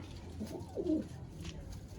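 A domestic pigeon gives a single low, soft coo near the middle of a short stretch, fairly close but not loud, against faint background noise.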